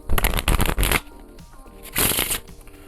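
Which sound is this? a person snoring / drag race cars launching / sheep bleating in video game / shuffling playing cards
shuffling playing cards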